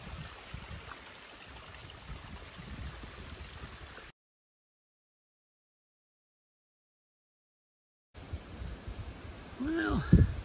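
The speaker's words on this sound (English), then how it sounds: "It's more of a trickle fall." A small trickling waterfall at a woodland campsite runs as a steady broadband wash of water, broken by a few seconds of silence, then resumes with brief faint voice-like sounds near the end.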